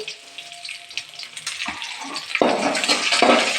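Green chillies and tomato frying in a pan, a soft hiss that swells into a louder, steady sizzle partway through, with light stirring scrapes and no talking.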